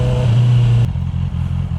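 A Honda CB650R E-Clutch motorcycle engine runs close by, a steady rumbling note that drops abruptly and settles into a pulsing, uneven idle.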